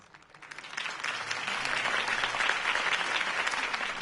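A crowd in the Batman Telltale video game applauds after Harvey Dent's campaign speech, the clapping starting softly and swelling into a steady, moderately distant ovation that holds to the end.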